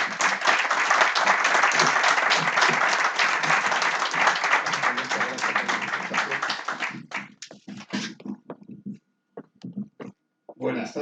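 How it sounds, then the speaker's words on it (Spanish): Audience in a lecture hall gives a speaker a strong round of applause, dense clapping for about seven seconds that thins into a few scattered claps. "Un fuerte aplauso para él."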